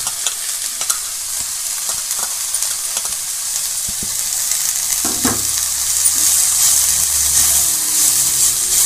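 Crushed ginger and garlic sauté with spices in a hot pan for a potato curry, a loud steady sizzle with occasional scraping stirs and clinks of a spoon close by.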